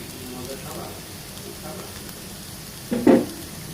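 Shrimp and potato fry with chopped coriander being stirred in a pan, a soft sizzle with gentle scraping and a louder clatter of the spoon near the end.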